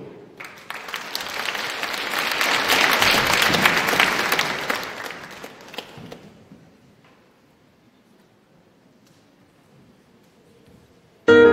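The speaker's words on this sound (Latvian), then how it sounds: "es gribētu redzēt jūsu lielas rokas un aplausi, skaļi, skaļi, skaļi" Audience at a gala concert in Riga applauding, a dense round of clapping that swells for several seconds, then fades to near silence, ending with a short loud burst.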